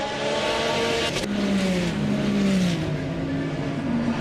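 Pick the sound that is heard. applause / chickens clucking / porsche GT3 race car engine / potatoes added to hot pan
porsche GT3 race car engine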